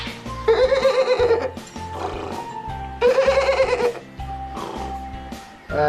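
A voice imitates a horse's whinny twice, loud and close, each neigh rising and shaking, with a low rhythmic backing underneath.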